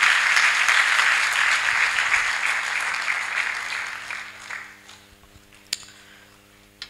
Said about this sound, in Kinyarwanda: Dukomere amashyi, dukomere itorero ryacu.